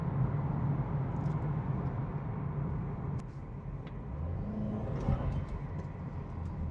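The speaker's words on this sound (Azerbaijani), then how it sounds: "Burada avtomobil həm dinamikdir, həm də ümumiyyətlə borulardan çıxan səs belə biraz fərqlidir." A BMW 428i tuned to Stage 2, rated at 320 horsepower, drives along city streets with a steady, low engine and exhaust rumble and a faint whir. The drone stays even and moderately close with no voices.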